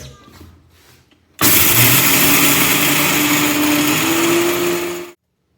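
Kitchen mixer grinder grinding rice for murukku, starting abruptly after quiet background sounds and roaring loudly and steadily for several seconds, its pitch rising slightly as it spins, before cutting off sharply.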